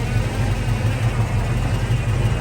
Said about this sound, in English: Take a second video of the engine running.